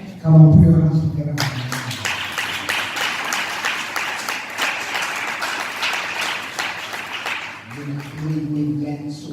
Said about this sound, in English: Come on, put your hands together.